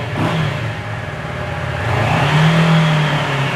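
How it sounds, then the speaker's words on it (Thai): A 2017 Kawasaki Versys 650 motorcycle with its stock exhaust revs up and holds a steady, rising engine note close by, the pitch climbing then settling, with no voices. "คันนี้ยังคงเป็นท่อเดิมนะฮะมาฟังเสียงท่อคันนี้กันหน่อยครับ"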